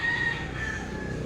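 Fighting roosters kept by a neighbour crowing, a drawn-out cock-a-doodle-doo followed by another call, moderately distant over a low background hum.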